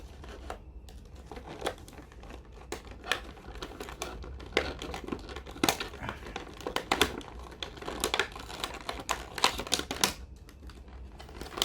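Twist ties are snipped and an action figure is worked loose from its packaging, producing a close run of irregular clicks, snaps and plastic crinkling in uneven bursts, with no speech.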